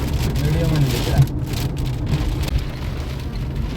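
Rain patters steadily at night near Shivpuri in Rishikesh, a continuous soft hiss with a low vehicle-like rumble beneath and people talking over it.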